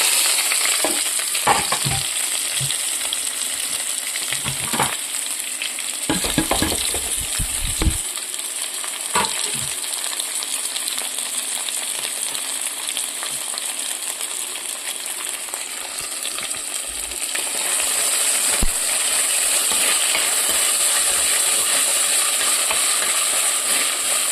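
Ginger, onion and garlic frying with mustard seeds for fish curry, a steady close sizzle with repeated spoon scrapes and stirring clatters through the first half, then a smoother hiss.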